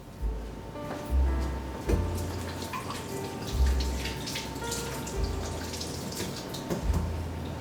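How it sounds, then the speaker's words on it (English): Running kitchen tap water rinsing hands at a sink, a steady close splashing stream with occasional drips and clinks, no talk. "rinse your hands"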